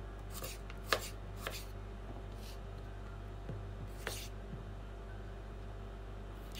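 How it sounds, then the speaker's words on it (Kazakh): Knife slicing a cucumber very thinly on a cutting board, a few sharp chopping taps spaced irregularly over a steady low background hum, fairly quiet and with no talking. "Огурцымызды тураймыз"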